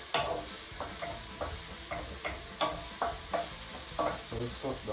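Onions sauté in a little oil as the base for a beef lasagna, giving a quiet, continuous sizzle with regular scraping strokes of a utensil stirring the pan.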